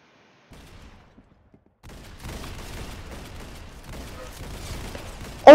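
Shotgun fire in the video game Arsenal comes as a cluster of rapid, crackling gunshot bursts amid game noise, ending in one louder sharp blast.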